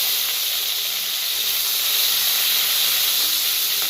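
Curry leaves crackling in hot oil with cumin for an egg curry, a loud, continuous close sizzle and hiss that holds steady throughout, no talking.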